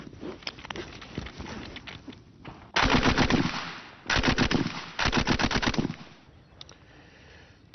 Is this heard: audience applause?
no